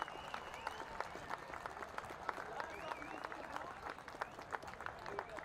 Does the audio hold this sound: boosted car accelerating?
no